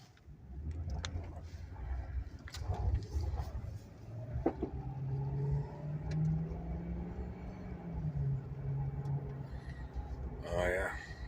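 A Mercury Grand Marquis LS engine hums and climbs in pitch as the car accelerates on a test drive, a mid-level rumble under someone talking inside the cabin.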